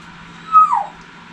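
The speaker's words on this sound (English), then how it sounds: "please excuse the dog at my feet" A single short, high dog whimper, sliding downward, quiet and close in an otherwise calm room.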